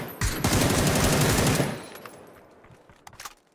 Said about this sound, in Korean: 총소리 나.